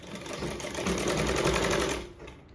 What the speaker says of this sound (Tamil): 1/4 இன்ச்சுக்கு கொஞ்சம் கூட வச்சு நான் தையல் போட்டு எடுத்துக்கிட்டுறேன்